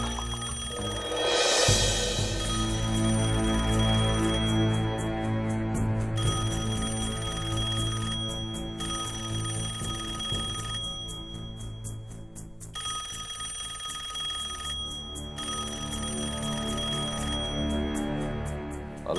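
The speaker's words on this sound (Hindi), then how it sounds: "अलार्म इस वक्त?" A new mobile phone's alarm rings indoors on a Sunday morning, a loud repeating electronic bell pattern in regular bursts with short pauses, continuing alone for about nineteen seconds.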